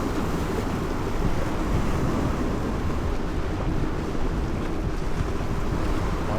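Sea waves rolling from a tanker's wake, heard from aboard a small fishing boat on the ocean, a steady broadband wash of water and wind buffeting the microphone, constant and close throughout.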